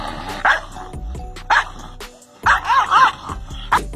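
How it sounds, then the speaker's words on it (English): A dog barking at its own reflection in a mirror, a handful of sharp close barks spaced irregularly, including a quick double bark, loud and alone. "Let's just sit back and watch this fella bark at itself."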